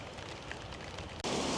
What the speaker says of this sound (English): Oops, starts raining.